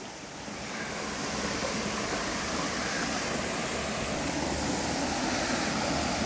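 Clean water rushes in under pressure from two inlets into a deep pool in a Konkan village, a loud, steady broadband roar with no break.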